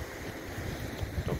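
Steady wind blasts against the microphone, a low roaring rumble with no talking, with sea-like noise in the background.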